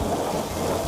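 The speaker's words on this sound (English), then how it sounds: "All this actually begins with rain." Steady rain pours down with a low thunder rumble underneath, a dense, even wash of noise over a brief stretch with no voices.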